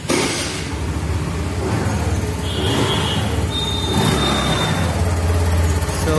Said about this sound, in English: Let me show you the silencer sound guys.